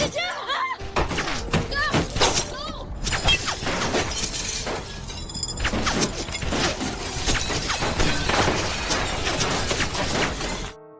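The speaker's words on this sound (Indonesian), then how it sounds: "Namun tiba-tiba ada yang menembak." Gunfire in a film scene comes as a sudden burst of sharp shots mixed with shattering glass and heavy thuds, loud and close, continuing for several seconds with a narrator's voice over it.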